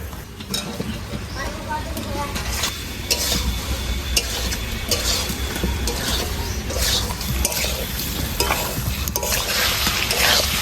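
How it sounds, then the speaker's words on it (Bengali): Fried potatoes go into a pan with yogurt for aloo dum and are stirred, a loud continuous sizzle with frequent metallic scraping and clinking of the utensil against the pan. "ভেজে রাখা আলুগুলো এবার দিয়ে দেবো।"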